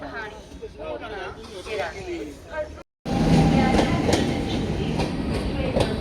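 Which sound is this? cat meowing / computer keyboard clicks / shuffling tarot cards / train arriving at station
train arriving at station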